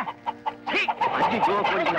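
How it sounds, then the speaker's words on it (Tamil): A chicken clucking repeatedly while held inside a bag, loud and close, with rapid agitated clucks and a rising squawk in the middle. "நம்ம கொண்டாந்த பையில தான் கோழி இருக்கு மாமா."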